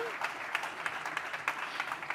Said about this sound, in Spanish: Otro aplauso para ella, por favor.